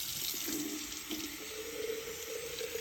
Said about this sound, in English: going to rinse this with some water